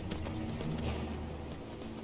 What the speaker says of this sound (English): Come on, horse, go.